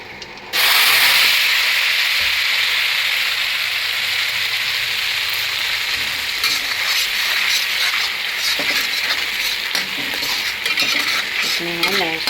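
Dried red chillies, asafoetida, garlic, onion, green chillies, black pepper, mace and garam masala fry in hot oil, a loud steady sizzle with spoon stirring and scraping against the pan close by, no talk.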